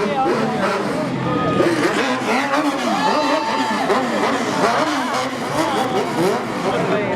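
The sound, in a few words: loud car engine revving at a street race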